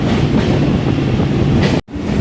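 A Chennai suburban local train rumbles steadily on the Beach–Chengalpattu line near Park station, a loud continuous low roar of wheels and carriage with a brief sharp dropout near the end before the rumble resumes.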